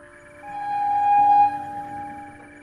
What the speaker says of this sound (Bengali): মাঝে মাঝে দূর থেকে নিজের গন্তব্যে চলা ট্রেনের হর্ন রাতের নীরবতাকে